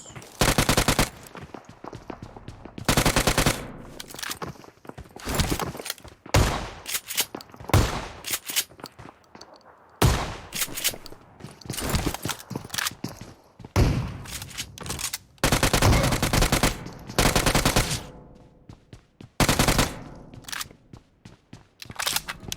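Submachine gun fire in PUBG Mobile comes in repeated rapid automatic bursts, loud and close, separated by short quiet gaps, with occasional single shots between the volleys.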